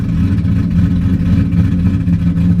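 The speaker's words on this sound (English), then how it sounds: "We're about to go down here and warm the transmission up." A car engine idles and revs steadily up close, a loud continuous low rumble held at a fairly even pitch while the transmission warms up before burnouts.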